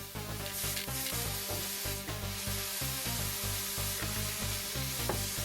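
Beef frying in a pan for a camp lunch beside a Casita camper, a steady close sizzle with crackling and scraping through the whole stretch, with no voices.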